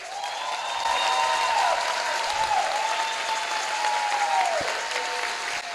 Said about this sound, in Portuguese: precisa da nossa salva de palmas também